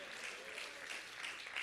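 Church congregation clapping in praise at a Spanish-language service, a steady, moderately distant patter of many hands with faint voices mixed in underneath.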